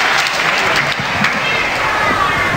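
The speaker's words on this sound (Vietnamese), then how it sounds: "chúng ta cùng dành một tràng pháo tay thật lớn" A television studio audience claps in sustained applause, a dense, even wash of hand claps that holds steady throughout.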